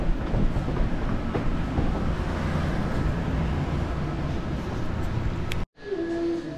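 The Ishizuchi ropeway cable car arrives at its station with a steady rumbling, rattling roar and faint clicks, the noise cutting out abruptly near the end before resuming more quietly.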